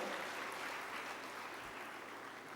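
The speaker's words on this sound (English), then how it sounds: "give them a huge round of applause" Audience at an energy conference breaking into sustained applause, a dense even wash of clapping held steady from start to end.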